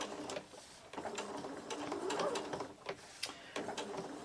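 A home sewing machine stitches a scrappy fabric Christmas ornament cut from a cookie cutter pattern, with neutral top thread and gold metallic bobbin thread. Its close, steady motor whirr carries a rhythmic stitching chatter, and no one speaks.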